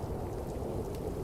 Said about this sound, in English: rain began to cascade from the sky